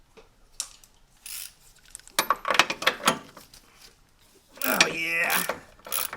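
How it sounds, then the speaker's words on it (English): A socket wrench ratchets in short clicking bursts while loosening a bolt on the steering link and control arm of a Mercedes SLK32 (R170), heard close up, with someone briefly speaking between bursts. "So you're going to come back over here with your socket and take that off."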